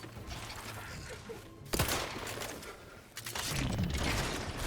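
Gunfire in the video game The Outer Worlds 2, a sharp nearby shot followed by rattling bursts and mechanical clatter layered over a dense game soundscape, loud and continuous for several seconds.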